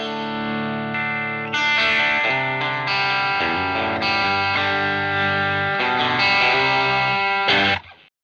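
Electric guitar played through a gain pedal, rolling from cleaner tones into overdriven rock and blues territory, with sustained distorted chords ringing loudly and continuously, then cutting off abruptly near the end.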